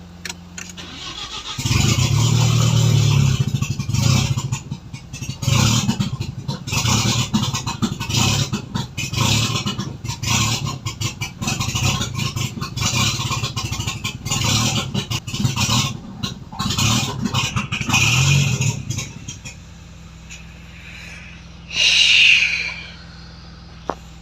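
A 316 turbo car engine cranks and restarts, then runs unevenly on a little throttle, its close rumble surging and dipping for about twenty seconds before cutting out, with a short final burst near the end.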